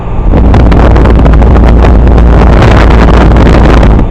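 An old Carrier 38BRC air conditioner with a rusty condenser fan grill, a very hot fan motor and a failed capacitor runs loudly and steadily, a dense rumbling roar with a low hum and rushing airflow.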